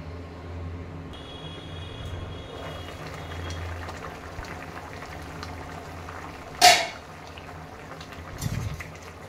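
Potatoes boil in water in a covered pot for a mushroom curry, a steady, low, close bubbling hiss throughout, broken by one sharp clatter and a later softer knock.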